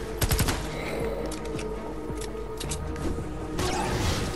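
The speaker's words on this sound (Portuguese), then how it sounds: "que tiro foi esse?" Rapid bursts of gunfire in the video game Fortnite crackle continuously in a busy, dense stretch, with sharp shots stacking over a steady noisy background and a louder burst near the end.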